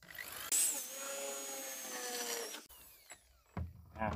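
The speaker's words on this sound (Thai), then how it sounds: "เจาะให้ทะลุลงไปเลยนะครับ" An electric drill bores through steel with a steady, fairly loud whining hum for about two seconds, then cuts off, followed by a few quieter knocks and thumps.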